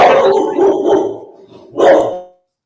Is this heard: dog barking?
yes